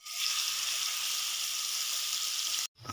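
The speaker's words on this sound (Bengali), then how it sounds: "এবার বন্ধুরা যে কড়া যে তেলটা আছে এবার আমি মাছগুলো এক এক করে দিয়ে দেবো" Lote fish dropped into hot oil in a wok: a loud, steady bright sizzle and crackle of frying that runs close and constant for over two seconds, then cuts off abruptly, with no talk.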